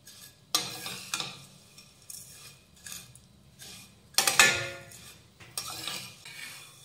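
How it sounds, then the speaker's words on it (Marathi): Vermicelli roasting in ghee in a pan is stirred with a utensil, producing a few distinct scraping bursts and soft sizzling, with one louder stir near the end; no one speaks. "तर इथं तुपामध्ये शेवया तांबूस रंगावर भाजून घेतलेल्या आहेत।"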